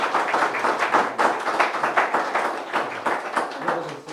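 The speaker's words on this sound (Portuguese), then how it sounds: "Uma salva de palmas para Jesus." A church congregation gives a round of applause for Jesus, dense clapping that rolls on for about four seconds at moderate level, fairly close, with no clear talk over it.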